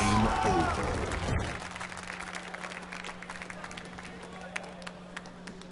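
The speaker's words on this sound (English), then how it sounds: "You hear the Status Quo fans out in the crowd making some noise" A crowd of fans at an esports championship match cheers and claps loudly at first, then the noise fades to a softer murmur with scattered claps and a steady hum.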